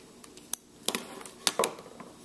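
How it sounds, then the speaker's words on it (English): Sharp, quiet snips and clicks of scissors cutting marshmallow, a handful of separate cuts spaced irregularly with faint rustling between them. "you just take your scissors and you're just going to go around and pinch it"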